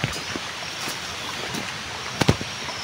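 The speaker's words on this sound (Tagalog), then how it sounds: "Parang malakas yung ulan na." Steady broadband hiss of heavy rain pouring outdoors, with a few sharp taps and splashes standing out near the end.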